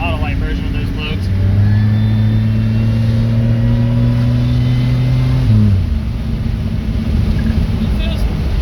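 A Pontiac GTP fitted with a 3 inch downpipe revs up under acceleration, a loud low engine drone climbing in pitch for several seconds before dropping off with a gear change, as a voice talks over it.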